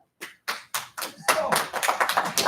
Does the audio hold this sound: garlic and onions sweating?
no